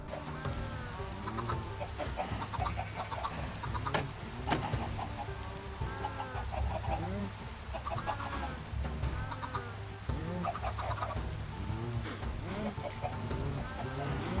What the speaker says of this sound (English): We could still throw more eggs inside to breed even more chickens.